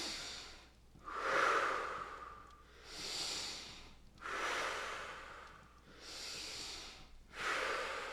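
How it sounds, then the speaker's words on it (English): Slow, deep breaths drawn in through the nose and released during a calm breathing exercise, each long airy inhale and exhale close and clear, repeating about four times with no talking. "take a smooth and easy breath in and an easy breath out"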